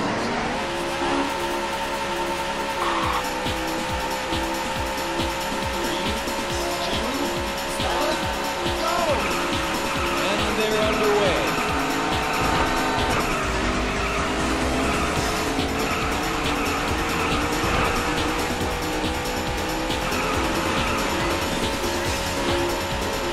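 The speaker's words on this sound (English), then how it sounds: "Start your engine." Race car engine in the Daytona USA arcade game on the Three-Seven Speedway in mirror mode, a loud continuous high-revving roar with shifting pitch and repeated tire squeals and skids, steady throughout with music and effects layered beneath.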